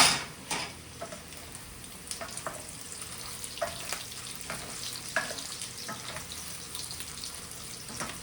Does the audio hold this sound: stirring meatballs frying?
yes